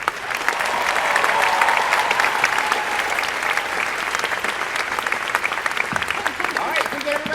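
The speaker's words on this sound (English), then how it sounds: "Round of applause for our artists." An audience at a live Haunted Mansion stage show applauds its artists with steady, dense clapping that swells and then continues evenly, with a voice briefly heard over it near the end.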